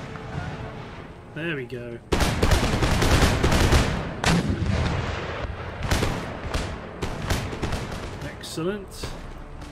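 Musket volleys crackle in dense bursts across a land battle in Empire Total War, loud and rolling for several seconds before tapering off, with someone speaking briefly before and after the firing.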